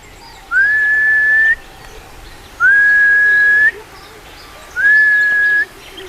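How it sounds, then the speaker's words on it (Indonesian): A common hill myna, a member of the starling family, gives three loud, clear rising-then-level whistles, each lasting about a second, with quiet gaps between them. "Jadi ini burung beo."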